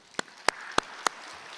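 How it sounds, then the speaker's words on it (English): Four sharp, separate hand claps ring out at an anniversary celebration gala honoring two national arts and humanities endowments. The claps are evenly spaced against a quiet hall, like the sparse start of audience applause. "let's give them a round of applause"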